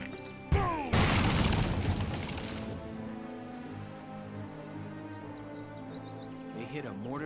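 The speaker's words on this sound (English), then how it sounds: "A mortar cannon way out here?" Mortar cannon fire in the video game Valkyria Chronicles: a sudden boom, then a second, heavier blast that rolls off into a long, fading rumble. A faint voice follows the blasts.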